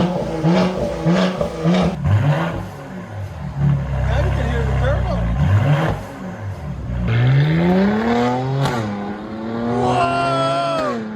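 Base Mercedes V6 car exhaust revving in repeated rising and falling sweeps, loud and close, with a hard throttle blip near the middle and higher-pitched revs toward the end.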